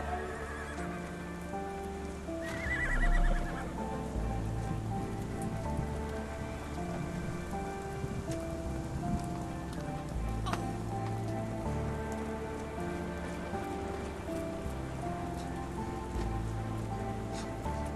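Steady rain pours across an outdoor scene in the video game Sherlock Holmes The Awakened, a continuous wash over layered ambient music, with a horse whinnying and hooves clopping briefly in the mix.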